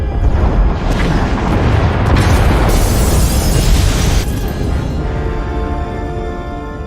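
Pod bays being destroyed in SWTOR, Knights of the Fallen Empire: loud, heavy rumbling explosions roll one into another, with sharp blasts layered in before the roar slowly fades into a lingering hum.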